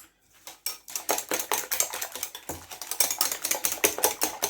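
Orange cake batter being mixed by hand as oil is poured in, giving a steady run of close, quick clinking and scraping strokes against the bowl, with no talking.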